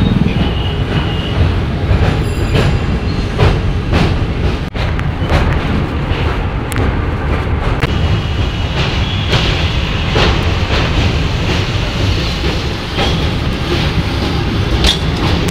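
A passenger train rolls past Dakshineswar toward Burdwan Junction, heard loud and close from on board as a continuous heavy rumble with rhythmic clacks of wheels over rail joints and occasional faint squeals, with no talking.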